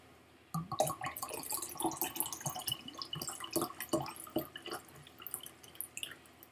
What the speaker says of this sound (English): I'm going to put some water in the glass.